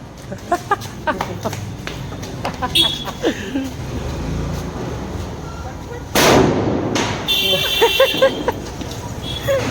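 Diwali firecrackers bursting outdoors, several sharp cracks and bangs scattered through, one big loud crackling burst midway, with people talking and exclaiming around them.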